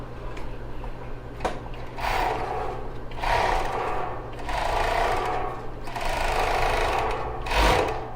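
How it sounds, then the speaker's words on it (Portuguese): Overlock sewing machine stitching along the top edge of a bra cup with elastic lace, several bursts of fast humming whir separated by brief pauses, close and moderately loud. "meu próximo passo agora é passar uma costura de overlock aqui na borda"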